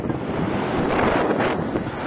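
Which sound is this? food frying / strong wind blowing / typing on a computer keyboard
strong wind blowing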